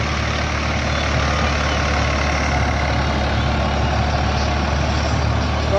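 A farm tractor engine runs steadily at close range, a loud, unbroken low diesel drone with no voices over it.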